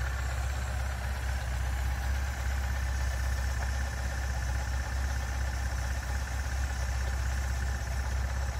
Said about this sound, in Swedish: Jag håller på och ställer in lite tomgång och så vidare.